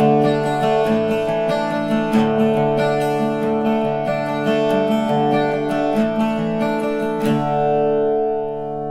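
An Irish bouzouki strums a driving jig picking pattern in steady triplet rhythm, bright ringing chords repeated close and clear with no voice, ending on a sustained ring.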